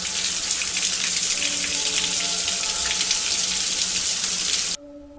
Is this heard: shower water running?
yes